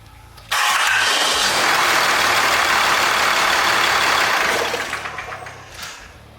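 A Ram 2500 Cummins diesel with one injector line disconnected cranks loudly and steadily for about four seconds with a rough whirring churn, then winds down unevenly without a voice over it.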